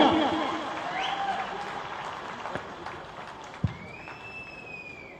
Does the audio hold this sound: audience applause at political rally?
yes